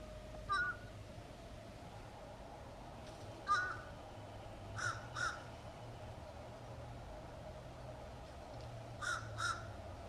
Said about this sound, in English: And then we have our fish crow.